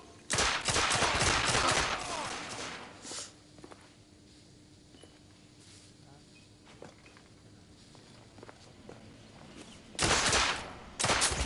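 Rapid gunfire rattles in the video game The Order: 1886, with two dense volleys, one opening and one closing, separated by quieter scuffling and isolated shots, while voices shout amid the fight.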